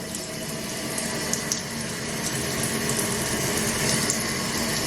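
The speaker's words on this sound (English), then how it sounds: "Now y'all can see the flow of the water." Water gushes from an Artiqua freestanding bathtub faucet tub filler in a steady, close, continuous splashing rush that builds slightly toward the end, with no talking.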